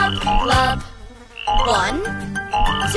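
Cartoon frogs croak in a children's nursery song about speckled frogs, loud repeated croaks in a bouncy rhythm over cheerful music.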